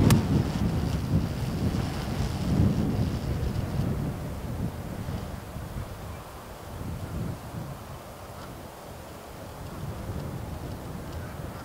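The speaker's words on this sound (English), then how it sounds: "20 mile per hour wind." Strong wind of about 20 mph on a golf course in Arizona, a steady rushing roar buffeting the microphone, loudest at first and easing a little later, with no clear talk.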